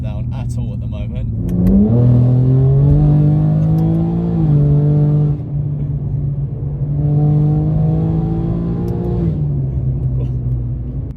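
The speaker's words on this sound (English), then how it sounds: "I'm not used to driving an S58 that is that loud and this fast" A BMW M2 with the S58 engine accelerates hard through two loud climbing pulls, each rising in pitch and then dropping at the gear changes, with people talking in the car.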